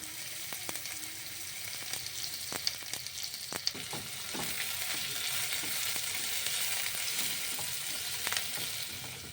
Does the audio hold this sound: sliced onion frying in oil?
yes